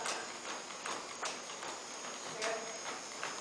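Horse hooves clip-clop in a steady, rhythmic canter, moderately close but fairly faint over a soft background hiss, with no voices.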